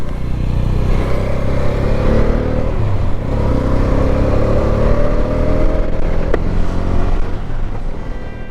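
Motorcycle on a solo winter road ride in India, its engine droning loud and steady from close by, with rising and falling pitch as it accelerates and shifts, joined by wind rumble and no talk.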